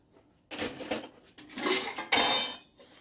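Metal pans clatter and scrape in several bursts, with clinks of cookware being moved around close by, including a worn, old saucepan.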